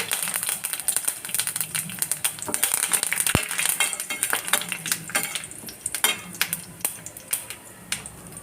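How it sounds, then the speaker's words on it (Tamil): Curry leaves crackling and sizzling in hot oil in a pan while preparing a spicy squid fry, with sharp pops and spatters, some utensil clinks, loud and close. "இதில் கருவேப்பிலை போட்டுக்குவோம்."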